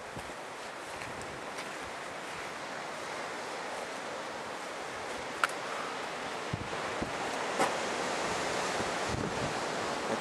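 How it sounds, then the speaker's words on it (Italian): Open sea waves at Piran, Slovenia: a steady, rushing wash of surf mixed with wind buffeting the microphone, continuous throughout with a few brief sharper splashes and no talking. "E questo è mare aperto"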